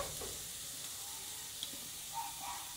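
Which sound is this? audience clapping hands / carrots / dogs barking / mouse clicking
carrots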